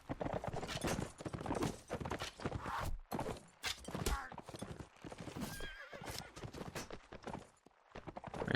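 A horse in a multiplayer medieval battle game gallops with steady clip-clop hoofbeats and whinnies, mixed with clashing combat noise and a commentator talking over the action throughout.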